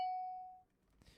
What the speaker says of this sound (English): The bell works.